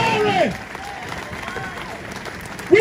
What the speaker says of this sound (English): Give Bill Curry a big round of applause.